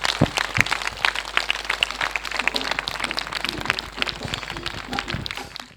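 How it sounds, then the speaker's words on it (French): A church congregation applauds, a dense spread of clapping hands throughout with scattered voices mixed in, fairly loud and fading at the end. "Acclamation à Jésus-Christ."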